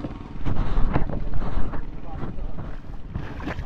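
A Robin engine drives a water pump, giving a steady, rough, low mechanical drone with wind-like noise over it. The sound stays close and continuous for a few seconds.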